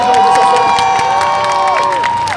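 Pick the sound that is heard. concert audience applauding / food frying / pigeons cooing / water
concert audience applauding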